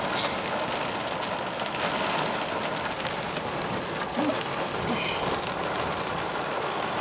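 A heavy rainstorm pours down steadily and loudly, a dense unbroken hiss with faint rumbles beneath and no talk.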